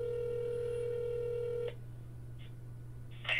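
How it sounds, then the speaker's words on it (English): A telephone dial tone hums steadily before cutting off, leaving a low background hum with a few short dialing beeps toward the end. "So let's see if Susie answers"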